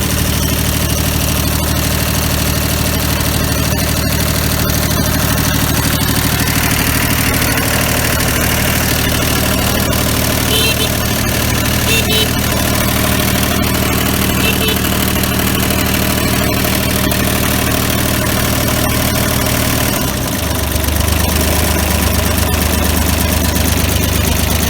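Bolens H1502 garden tractor engine idling loudly and steadily nearby, a continuous rough mechanical drone that shifts slightly in tone near the end.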